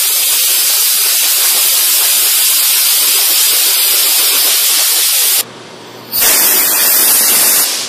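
Loud continuous blast from an air hose blowing water out of the pages of a waterproof Bible, briefly dropping out for under a second before roaring back just as strongly.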